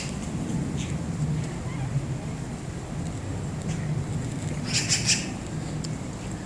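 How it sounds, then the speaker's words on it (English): Faint bird chirps and a brief burst of calls near the end rise over a low steady background rumble outdoors. "the birds are noisy today"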